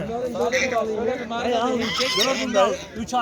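Roosters and hens at a Turkish poultry market crow and cluck close by, a busy overlapping flock mixed with vendors' voices nearby.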